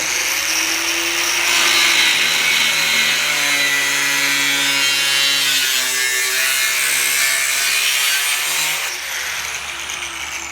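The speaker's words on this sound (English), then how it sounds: "got my cutoff wheel, got my safety goggles on" A cutoff wheel slices through a car's metal cowl panel, giving a steady, loud grinding whine that holds for about ten seconds and eases slightly near the end, with no talking.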